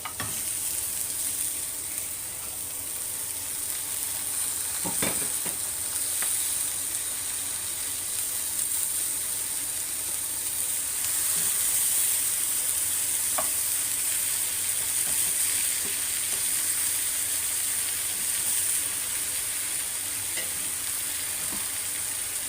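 Tilapia fries with green chili in a pan, a steady loud sizzle with a high hiss and occasional pops and clicks from stirring, continuing throughout without voices.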